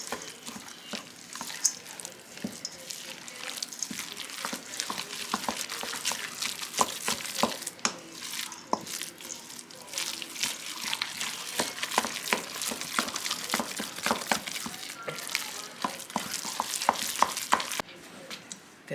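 Greek sheet pan chicken ingredients with chopped parsley being tossed and mixed by hand in a pan, a steady run of close scraping, rustling and clicking stirs over the whole stretch.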